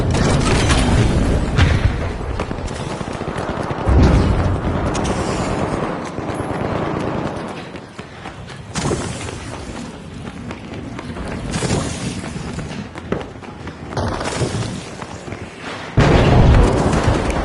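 A frag grenade goes off in a video game with a deep boom, followed by a long rumbling, windy roar of ongoing battle noise with further heavy thuds.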